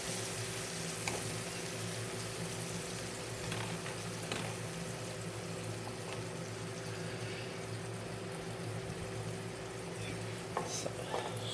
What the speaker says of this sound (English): Scoop them around a little bit, let them get hot.